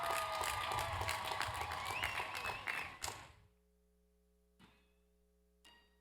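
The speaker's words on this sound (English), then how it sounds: "Let's give them another round of applause." Audience at a Lithonia High School 2022 graduation ceremony applauds the graduating class, a dense wave of clapping and crowd noise that cuts off after about three seconds, followed by a quiet hall with a few faint knocks.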